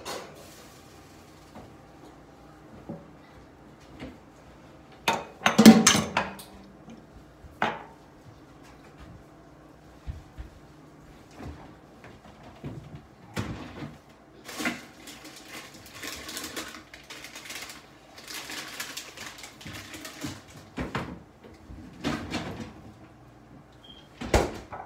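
Oven door and kitchen handling as two sweet potatoes go into the oven, a series of scattered knocks, clunks and sliding bumps, one louder thump cluster early on, close and fairly sparse.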